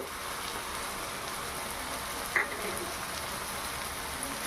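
Turmeric powder, chopped tomato, slit green chillies and Kashmiri chilli powder go into a hot pan for a straw-mushroom charchari, giving a steady, close sizzling hiss with one brief pop.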